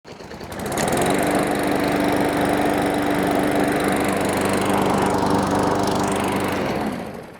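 A push lawn mower fresh from maintenance, with its spark plug wire reconnected, fires up after a short pull and settles into a loud, steady, buzzing engine drone, then cuts off just before the end.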